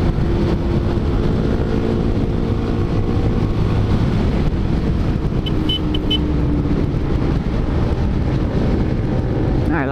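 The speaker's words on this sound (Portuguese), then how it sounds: "tá com escapamento WR, ó. O ronco dela ficou da hora." Yamaha FZ 250 motorcycle fitted with an aftermarket WR exhaust, a steady low engine drone running continuously while riding, mixed with wind and road noise.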